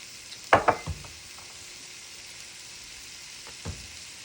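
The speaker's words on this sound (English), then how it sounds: "Throw on your onions. Throw in your carrots." Chopped onions and carrots hit a hot pan for soup, giving a short burst of sizzling and frying near the start that then fades to a low, quiet background.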